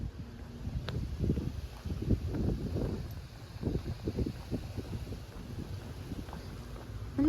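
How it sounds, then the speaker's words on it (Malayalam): Strong wind blows outdoors near a garden in Chicago, buffeting the microphone in uneven rumbling gusts with rustling underneath, moderately loud throughout. "നല്ല കാറ്റുണ്ട്, അതാണ്."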